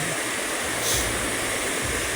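Water of the Alitao River flowing, a steady broadband rush like a stream or small waterfall that holds even throughout, with no voices.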